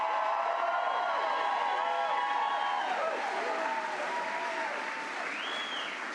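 A crowd applauds two reporters at a fraud-prevention event in Maine: dense, sustained clapping filling the hall, with voices cheering and calling out over it throughout.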